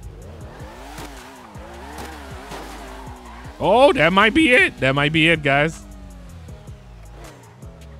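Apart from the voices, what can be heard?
built car engine in video game GTA 5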